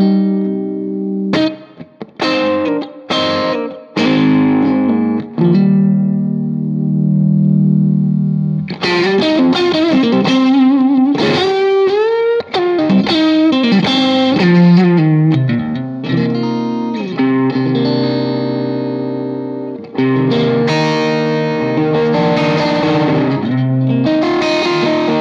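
Electric guitar on its middle pickup with a warm, slightly driven tone playing a melodic line with bends and sustained notes, steady and loud with no talking.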